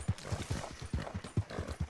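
A horse in Red Dead Redemption 2 moves at a quick, regular clip, about ten distinct, close hoof thuds in under two seconds, with no voices.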